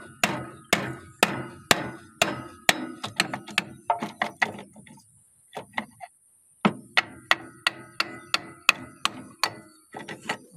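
Hammer blows strike a power tiller clutch pulley during gearbox repair, a steady series of sharp metallic knocks roughly every half second, pausing briefly before resuming in the same rhythm, close and loud with no talk.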